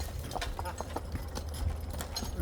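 Logging draft horses clip-clop on the ground nearby in irregular, closely spaced hoof strikes over a low background rumble.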